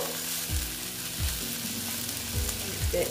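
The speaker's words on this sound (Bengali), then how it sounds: "আরেকটু ভেজে নেব, কারণ লতি কম ভাজা হলে না গলা চুলকাতে পারে" Boiled taro stolons (kochur loti) sizzle steadily in a pan while a few soft, regular thuds from stirring sound beneath a low background hum.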